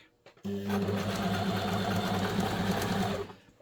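A sewing machine stitches fabric in one steady, loud run lasting about three seconds, with a fast mechanical whir and rattle that starts abruptly and stops near the end. No voices are heard.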